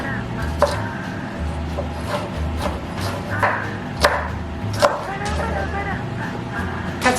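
A knife chops red onion in a home kitchen during evening meal prep, giving irregular, sharp cutting taps on a board over a steady low background hum.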